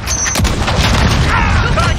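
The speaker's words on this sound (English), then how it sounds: "Allied cruise missile launched." Cruise missile explosions in the video game Modern Warfare, dense booming blasts and rumbling crashes that run without a break, with in-game voices talking over them.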